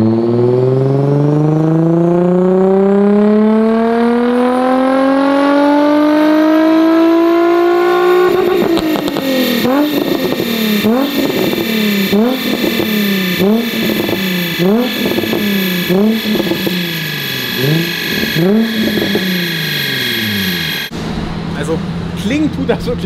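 Naturally aspirated car engine fitted with a 90mm sport exhaust runs on a dyno, sweeping up through the revs in a rising drone, then bouncing repeatedly off the limiter in sharp pulsing bursts before cutting off abruptly.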